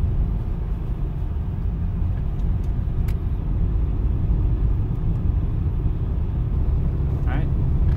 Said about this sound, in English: I can feel the wheels are spinning a bit, but we're going.